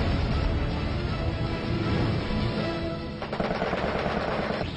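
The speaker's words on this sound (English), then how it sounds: "McWhorter slides his aircraft into the same plane with the Zero and rakes him with gunfire and gets a kill" An F6F Hellcat fighter rakes a Japanese Zero with machine gun fire in a World War II air battle, a loud continuous burst of rapid gunfire lasting several seconds under the roar of aircraft.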